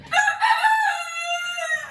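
A single drawn-out rooster crow rings out nearby, loud and clear, with nothing else around it.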